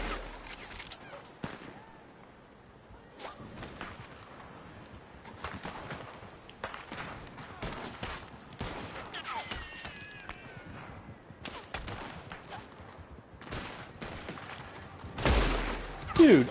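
Scattered gunfire in Red Dead Redemption 2 on PS4, a run of sharp bursts spread through the passage, some loud and close, mixed with other game sounds and a talking voice.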